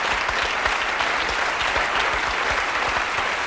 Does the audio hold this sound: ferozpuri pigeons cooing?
no